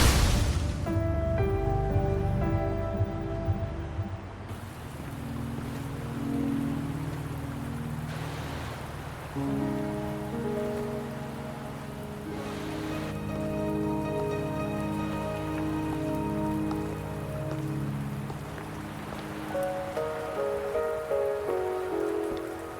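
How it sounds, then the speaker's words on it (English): Steady rain pours onto surfaces in the video game Wuthering Waves, a continuous hiss under soft game music, with no talk. "Are you trapped here by the rain?"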